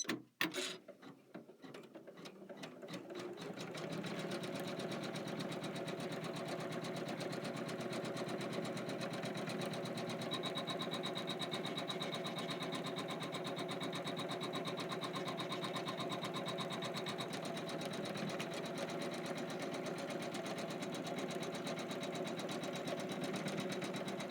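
An embroidery machine sews a tack-down line on a Kimberbell embroidery-by-number quilt block, starting with a few clicks and then settling into a steady, quiet mechanical stitching hum that runs unbroken.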